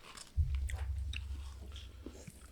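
Close chewing of crunchy potatoes and soft dough, a steady run of wet munching and soft crunches that starts abruptly and continues near the mouth without talk.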